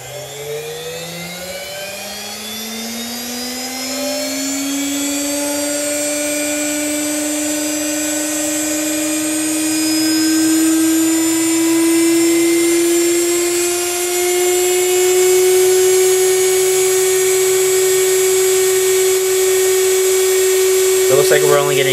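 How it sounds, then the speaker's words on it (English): A high-speed induction motor spins up toward its maximum rated speed, its whine rising steadily in pitch and loudness over about twenty seconds with a dense layer of harmonics; close and continuous. "I'm gonna spin the motor up to its max rated speed"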